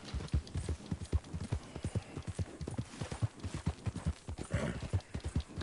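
Horse galloping in Red Dead Redemption 2, a fast, steady run of hoofbeats close and loud for several seconds with no talk over it.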